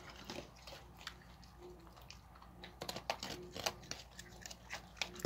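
Raccoons chew food nearby, producing soft, irregular crunching and smacking clicks over a quiet background, growing busier and more clustered toward the end.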